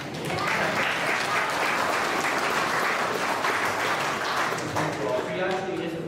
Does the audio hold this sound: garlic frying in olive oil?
no